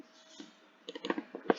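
Faint, quick computer mouse clicks in a quiet room, a few sharp taps bunched near the end.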